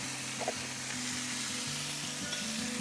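Spring onions and garlic fry in a pan at a camp cooking setup, giving a steady close sizzle throughout with light stirring clatter and no talk.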